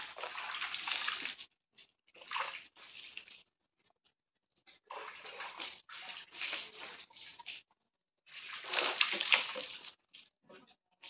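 Water splashes and pours during washing in a home in the Konkan region, arriving in close, bright bursts of several seconds separated by short quiet gaps.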